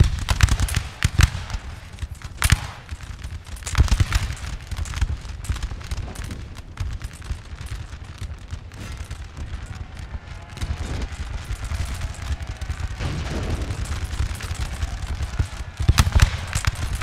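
Musket volleys crackle in Napoleonic: Total War, dense bursts of firing popping and rattling continuously with occasional sharper loud cracks, a steady battlefield barrage without talk.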